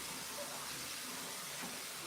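Millet is washed under running water, a steady, soft rush of flowing water at moderate distance, continuous with no talk.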